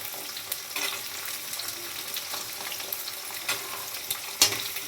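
Onion, curry leaves and garlic fry in a pan for a South Indian vendhaya kuzhambu, a steady close crackling sizzle with a few sharper pops and stirring scrapes, no voices.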